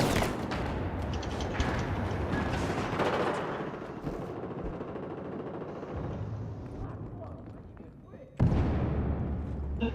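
Bombardment in a video game, with dense, loud explosions and gunfire rumbling over several seconds, then fading before a sharp new blast near the end. A voice talks over it.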